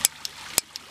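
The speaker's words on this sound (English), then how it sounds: "It's got its own ignition button here." Push-button piezo ignition on a compact titanium camp stove snaps in a quick series of sharp clicks, two louder and two softer, close to the microphone in quiet surroundings.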